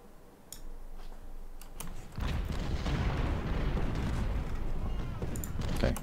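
Cannon and artillery fire in Ultimate General: Civil War, a dense, sustained rumble of booming shots that builds after a quieter opening, with sharp cracks scattered on top.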